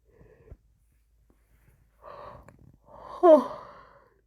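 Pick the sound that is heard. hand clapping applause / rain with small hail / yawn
yawn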